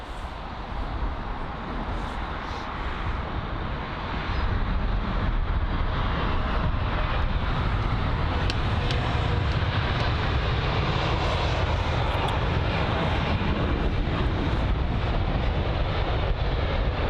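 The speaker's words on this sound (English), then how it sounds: "the British Airways A320neo arriving from Glasgow" A British Airways A320neo jet arriving from Glasgow, registration G-TTNM, roars steadily overhead; its broadband engine noise swells after a few seconds and holds loud and continuous, with wind buffeting the microphone.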